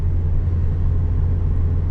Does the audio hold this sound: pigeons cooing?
no